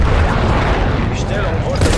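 A grenade blast in Call of Duty on the Nuketown map, a loud booming explosion with rumbling gunfire-like noise that fills the whole short moment, with game voice chatter mixed in.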